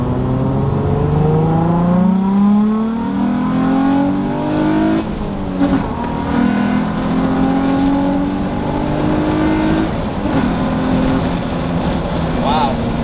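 An Infiniti G35 coupe fitted with a 370Z NISMO differential and 3.916 gears pulls hard, its engine note climbing through rising sweeps with a shift around midway, heard from inside the cabin with some talk.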